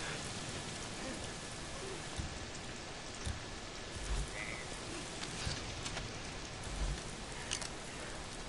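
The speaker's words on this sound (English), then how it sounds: "Why is it always raining?" Steady, dense rain falls in the open-world game Days Gone, a constant hiss with a few soft low thumps and occasional louder drops, and no talking.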